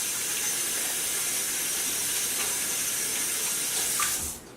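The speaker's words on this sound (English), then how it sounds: "I'm going to finish washing my hands again" Hands rinse under a running kitchen tap, giving a steady close hiss of flowing water that cuts off abruptly near the end.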